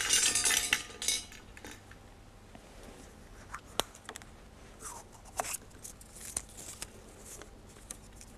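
Lots being shuffled and mixed by hand for an FDGB Cup football draw, a faint clattering and clinking of small objects with a louder burst at the start, then scattered light knocks and rattles in a quiet room.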